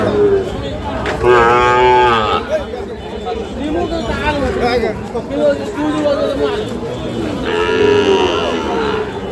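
Several cattle, including Sahiwal bulls and calves, moo loudly and repeatedly amid a busy crowd at Ambari livestock market, with people chattering and bargaining close by throughout.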